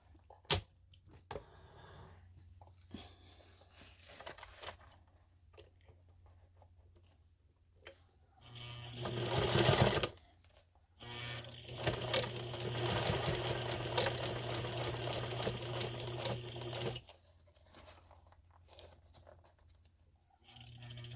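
Sewing machine topstitching a fabric pouch, faint at first, then a steady close whirring run in two stretches with a brief pause, then quiet ticks and handling noises.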